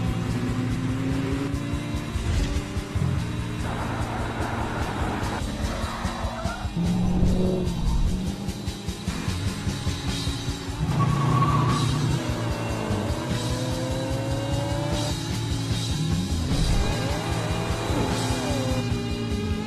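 A car driving in a played video, a steady engine drone with revving and tire squeals and skids running throughout, loud and continuous.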